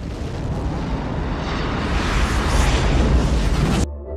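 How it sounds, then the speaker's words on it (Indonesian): A huge, deep roaring nuclear bomb explosion in a film rumbles continuously at full strength for several seconds, then cuts off abruptly into near silence. "5 detik kemudian bom nuklir pun meledak, menghancurkan kapal induk hingga berkeping-keping"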